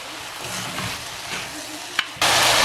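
Yardlong beans fry in a pan and are stirred, giving close, steady sizzling with light scraping and clinks before a louder hiss of frying rushes in near the end.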